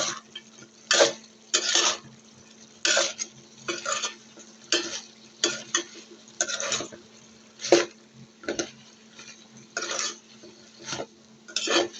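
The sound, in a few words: stirring taro stolons in a cooking pot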